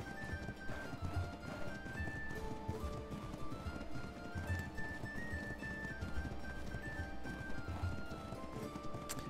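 Horse hooves clop in a steady rhythm as a mount is ridden in the video game Ark Survival, with occasional whinnies and game music tones layered over the trotting.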